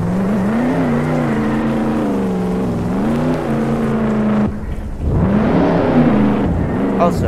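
A Torino car drives in the Jailbreak video game, its engine whirring and rising and falling in pitch as it accelerates, dips briefly, then revs up again, loud and close.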